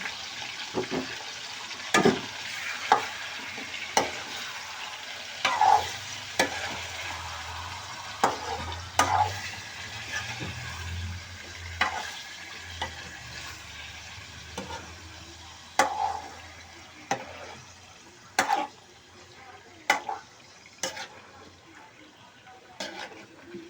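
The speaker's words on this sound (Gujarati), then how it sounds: "અને હવે આપણે મુરગીને હલાવી નાખશું." Frying chicken is stirred in a pan: regular scraping knocks of a spoon against metal repeat about once a second over a quiet, steady sizzle, close and clear.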